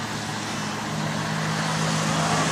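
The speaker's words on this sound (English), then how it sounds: "I don't like this traffic sounds." Steady road traffic noise from cars and trucks fills the whole stretch as a continuous, fairly loud broadband roar with a low engine hum, no single vehicle standing out, heard alone without talk.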